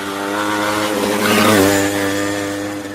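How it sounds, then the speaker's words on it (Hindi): A motorcycle engine with a girl riding hums steadily close by, its tone swelling briefly as if passing or revving, then easing off over about three seconds. "She is riding the motorcycle."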